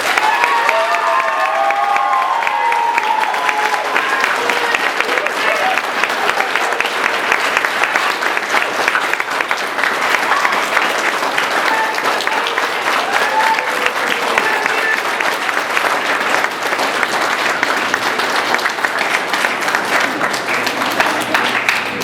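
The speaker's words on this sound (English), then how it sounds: "Let's give her a huge round of applause" A school assembly crowd at Booth-Fickett gives a staff member a huge, sustained round of applause, steady and dense throughout, with some cheering and children's shouts mixed in.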